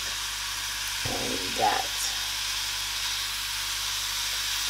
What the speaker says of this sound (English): I just want to just lightly fry it before I add it in the oven